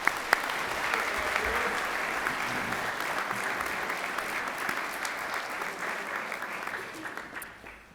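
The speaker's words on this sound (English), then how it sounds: "Let's give our speakers one more round of applause." A school convocation audience at Cushing Academy gives speakers a round of applause, a broad steady wash of clapping heard at a moderate distance, tapering off at the end.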